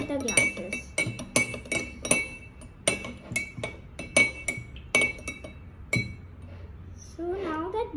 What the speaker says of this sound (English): I'm going to take 2 spoons again and I'm going to stir both of the glasses